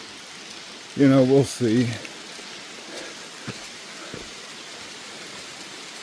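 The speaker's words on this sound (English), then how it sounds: "It's raining again." Rain falls steadily on the Appalachian Trail near Troutdale, a soft, even hiss with a few sharper drops, while someone speaks briefly early on.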